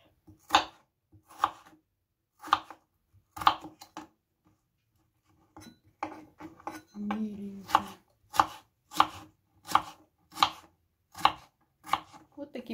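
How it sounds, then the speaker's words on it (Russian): Knife chopping potatoes into small cubes on a board, a steady run of crisp, close single cuts with a short pause midway and a few quieter shuffling sounds before the chopping resumes. "Нарезаем картофель также мелкими квадратиками."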